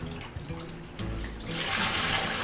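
Water running from a kitchen tap while making yogurt at home, a soft splashing trickle that turns into a louder, fuller gushing stream partway through.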